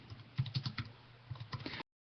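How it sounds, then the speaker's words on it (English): Fingers type quickly on a computer keyboard, a close run of soft clicking keystrokes in uneven bursts with a brief pause midway, cutting off abruptly to silence. "I'm gonna type something in and see what comes up"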